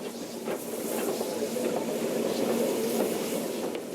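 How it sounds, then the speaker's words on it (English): On the footplate of a steam locomotive, the driver applies the brake, bringing a sustained airy hiss and rushing rumble with faint rhythmic rail clicks, fairly loud and close, with no talking. "That's the driver applying the brake."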